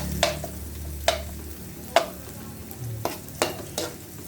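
Garlic sautéing in a pan, a soft sizzle punctuated by several sharp scrapes and taps of a utensil stirring against the pan at irregular intervals.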